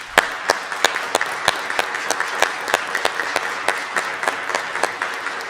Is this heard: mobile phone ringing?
no